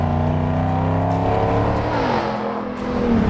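A 1964 Ford F-100 pickup fitted with a Ford Coyote V8 revs up loud and close, its engine note climbing and falling in smooth sweeps before surging again.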